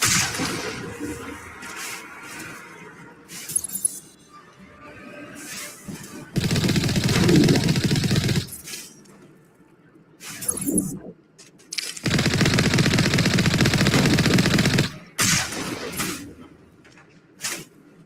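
Bursts of automatic gunfire ring out in the Mass Effect video game. Two long, loud, sustained volleys of rapid fire dominate, with sharper single shots and quieter stretches between them.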